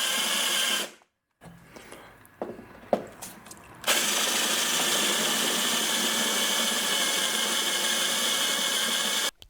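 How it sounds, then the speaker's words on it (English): A spot weld cutter bores out the rocker panel spot welds on a Mercury Sable, first a few short bursts, then a steady high-pitched whirring drill run lasting several seconds. "there comes the spot weld cutter on the job"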